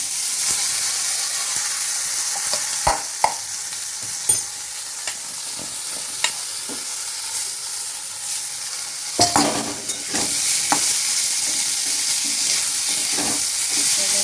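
Rice frying in ghee for basanti pulao hisses in a steady, bright sizzle, broken by occasional spoon knocks and scraping stirs against the pan, close and continuous with no speech.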